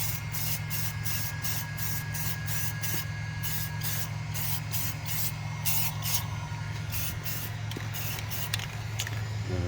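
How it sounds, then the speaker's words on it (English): Steady hiss of a spray can held close, painting wheel rims to fix curb rash, with short bursts and brief pauses between passes, over a constant low mechanical hum. "Spraying them all around the rim."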